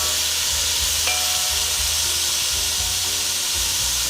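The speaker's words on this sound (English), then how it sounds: "So we're gonna let this simmer in there for about 3 minutes." Shrimp rice stew, Dominican asopao de camarones made with beer, simmers in a pot with a steady hiss and soft bubbling sizzle, close and continuous, with no talk.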